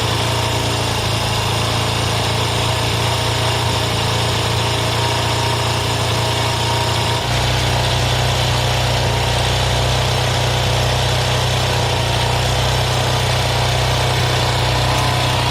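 A TVS Apache 160 RTR motorcycle engine running close by, a loud, steady buzzing drone whose tone drops and settles after a shift in speed partway through, with no voices.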